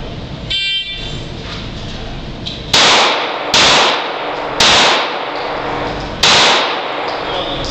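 Pistol gunshots on an IDPA shooting stage, four loud, sharp, close reports spaced roughly a second apart, each followed by a brief ringing decay, after a short beep-like start signal.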